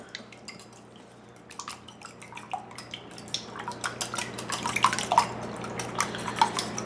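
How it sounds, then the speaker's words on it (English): A small whisk beats eggs in a bowl, giving a stream of quick light clinking taps that grows busier and louder over several seconds. "So I'm going to whisk the eggs with a small whisk."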